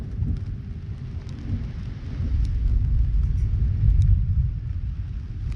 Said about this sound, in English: every so often there's a little bit of thunder over here